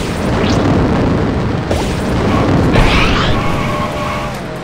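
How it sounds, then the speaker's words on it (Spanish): A buggy's engine in the racing game Beach Buggy Racing 2 roars under loud booming bursts and crashes, with rising whines and a dense, noisy, close mix throughout. "Miren, les voy a enseñar y más o menos escuchen cómo suena el auto."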